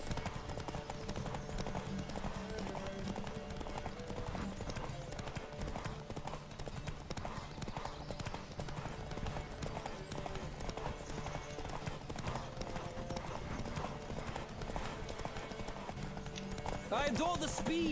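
Horse hooves clatter in a steady galloping rhythm during a horse race in The Witcher 3, moderately loud and continuous under game music and occasional character voices.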